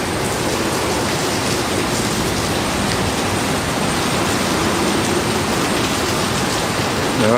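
Heavy rainstorm pouring down at LaGuardia airport, a loud, dense, steady hiss of rain on surfaces filling the whole stretch without pause.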